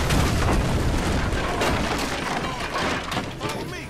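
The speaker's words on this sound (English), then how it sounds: "Shoot that gas can!" A gas can explodes in the GTA 5 video game with a loud, dense boom and a rumbling blast that fades slowly, set among gunfire and chaotic game noise.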